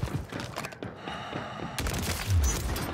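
Battle rifle gunfire in the Warzone video game, bursts of shots over game noise with a brief pause midway, then louder rapid firing and a low thump near the end.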